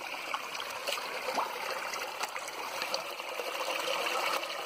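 A small waterfall that formed in the Brazilian caatinga after the rains rushes and splashes steadily, a continuous, even wash of falling water recorded nearby with no voices.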